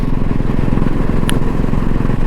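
A Royal Enfield Classic 350 Redditch model from 2019 rides along the road, its engine a steady, close, loud thumping drone with wind noise throughout.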